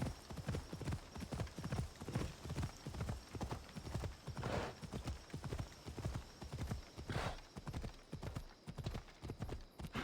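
Horse hooves clip-clop steadily in a video game as the mount trots slowly through a residential area, a continuous close rhythmic patter with an occasional faint whinny and no talking.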